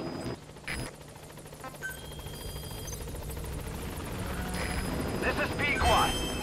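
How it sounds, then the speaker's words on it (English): A support helicopter's rotor thrum in Metal Gear Solid V: The Phantom Pain builds gradually and grows louder as it approaches, with game sound effects and a voice speaking over it. "Support helicopter has arrived."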